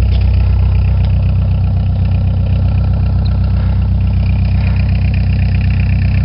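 A 1987 Ford Escort diesel idling right after a hard cold start, a loud, steady low clatter that runs unbroken and close by.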